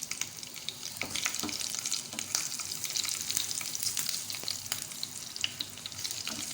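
Ginger and green chilies sizzle in hot oil for a Pakistani mixed daal, a steady close crackle with sharp spits and occasional stirring scrapes throughout, no voices.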